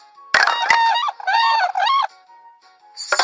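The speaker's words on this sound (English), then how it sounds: "Swan." Swan call, a loud, nasal, honking cry heard close in several bursts with short gaps between them, followed by a brief final call.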